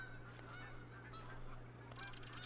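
Goose honking in the Call of the Wild hunting game, faint distant calls under a steady low droning background, brief and indistinct.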